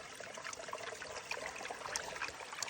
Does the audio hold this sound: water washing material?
yes